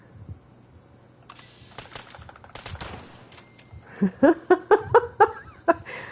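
A player's gun firing in Fallout 76, a string of light, evenly spaced pops after some scattered shots, fairly close and alone without talk.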